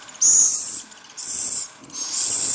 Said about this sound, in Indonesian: sarangnya sih ini burung hantu celepuk